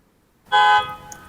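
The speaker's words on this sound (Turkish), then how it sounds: "kornaya bastım. Gördüğünüz gibi araba korna bastı" A Tesla's horn, triggered remotely from a phone app, blares in one short, loud honk that stops abruptly, with no one talking.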